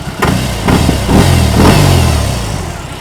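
A 2022 BMW R18 Transcontinental motorcycle engine revs three times in a row, each throttle blip rising to a loud, rumbling burst before falling back toward idle, heard up close with no talking.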